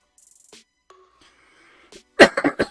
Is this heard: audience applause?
no